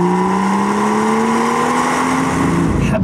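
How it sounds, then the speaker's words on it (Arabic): A 2016 BMW M2 in Sport Plus mode with its exhaust valves fully open revs hard and close, its loud engine note climbing steadily in pitch before cutting off at the end. "لما تكون سبورت بلس بكون صوت السيارة بعطيك الطرب الصح زي ما بدك"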